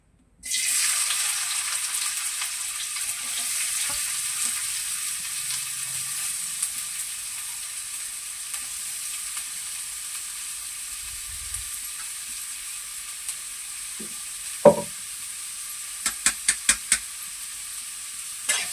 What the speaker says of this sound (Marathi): तेल गरम झाले आता आहे ना कांदा टाकून घेतले